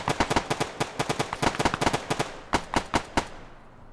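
Gunfire from AI soldiers in the video game Arma 3, rapid sharp shots in quick bursts and irregular clusters, crisp and fairly loud, ending with a few spaced single shots.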